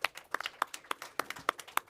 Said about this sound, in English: let's have a huge round of applause for our dual moderators, Joe Reddy and Brian Latina